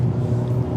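A 2024 Hyundai Elantra N pulls hard in N mode, a steady loud engine drone from inside the cabin for under a second with no voices over it.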